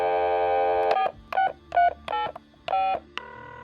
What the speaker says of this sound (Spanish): Jack habla por teléfono con Donna